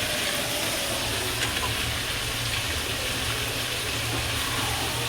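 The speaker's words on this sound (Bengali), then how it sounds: "আর এদিকে দেখো জলটা ফুটে গেছে।" A pot of water boils hard on the stove while bamboo shoot curry is being cooked, giving a steady, close, unbroken bubbling hiss with no voices over it.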